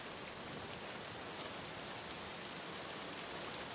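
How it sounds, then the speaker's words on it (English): Steady, dense drizzle on a townhouse's glass window pane in Seattle, a constant soft hiss of fine drops heard close and unbroken, with no voices. "the drizzle tapping on the glass window of the townhouse"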